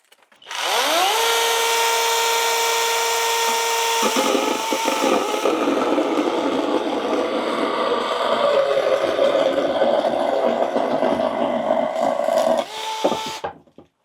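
ProCraft PKA 45 mini chainsaw revving up and cutting under a 2 kg test load, a loud continuous high-pitched whine that drops into rougher loaded cutting noise before winding down at the end.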